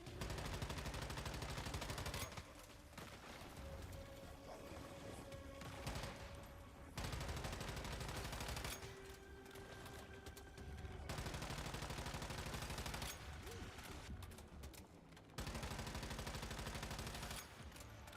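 Sustained automatic gunfire from the Once Human shooter game, rapid bursts hammering continuously for long stretches, broken by short pauses as the firing stops and starts again, loud and close with no talk over it.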